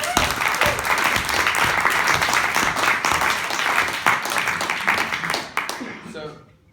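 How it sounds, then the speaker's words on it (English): A presenter receives sustained audience applause, dense clapping filling the room at a steady level for several seconds before thinning out and fading near the end. "Give him an applause"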